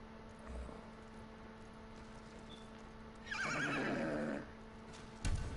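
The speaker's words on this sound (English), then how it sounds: "Yep, Kage and Kaze were my horses" A horse whinnies in the video game Ghost of Tsushima, a clear wavering neigh rising over a quiet game ambience with a steady tonal hum, preceded by a soft thud and followed by a brief knock.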